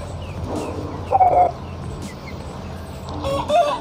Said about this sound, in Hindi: हमारा जो एक आंख से ब्लाइंड मुर्गा है वो उसका शौक कराएं